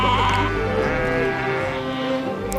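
Sheep bleat repeatedly as a flock of several hundred dairy sheep is gathered for milking in Ladakh, overlapping wavering cries at moderate distance with some faint voices mixed in.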